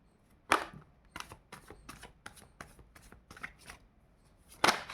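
Tarot cards being shuffled for a reading, a series of crisp riffling bursts at an irregular rhythm, close and clear, with louder snaps at the start and end and no voices.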